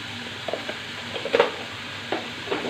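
Chili and cumin powder sizzling in a pan as it is stirred, a soft continuous fry close by, punctuated by several light spoon scrapes and taps against the pan.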